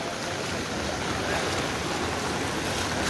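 Floodwater from a river pouring under a bridge and through a flooded village, a continuous broad roar of rushing water that stays steady and loud throughout.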